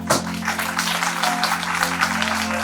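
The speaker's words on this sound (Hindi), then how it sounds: "तो एक बार जोरदार अपने लिए तालियां" Applause from an audience of students at a seminar, dense continuous clapping filling the room at a steady loud level over a low hum.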